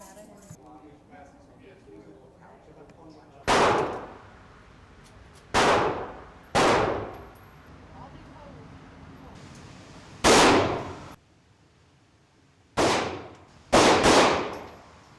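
Six sharp gunshots ring out at an outdoor shooting range, loud and close with quiet gaps of one to four seconds between them, the last two fired in quick succession.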